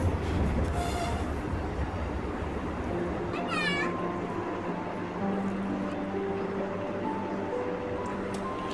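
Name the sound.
passenger train arriving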